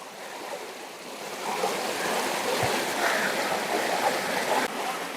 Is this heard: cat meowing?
no